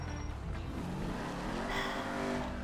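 The Eleanor car in GTA 5 Next Gen drives by day with a steady, full engine roar that swells as it revs, with a hint of tire noise.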